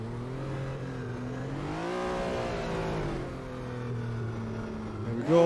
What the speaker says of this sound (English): Right, Lamborghini Countach. This should be quick. If we can get it off the line, that is.